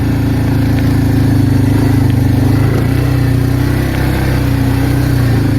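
An Arctic Cat 366 ATV with a hot no-start fault runs while being ridden, its engine a loud, close, steady low drone that holds even throughout with only slight throttle variation.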